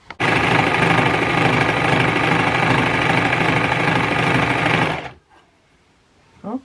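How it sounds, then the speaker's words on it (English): An overlocker serges a seam on pyjama bottoms with a loud, dense, continuous buzz for about five seconds, then stops abruptly, leaving near quiet and a faint rustle. "we are ready to use the overlocker"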